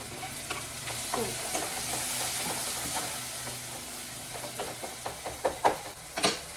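Finely chopped tomatoes go into a sizzling pan for a Kerala fish curry, a broad frying hiss at first, then stirring with a run of sharp spoon knocks against the pan toward the end, close and without talk.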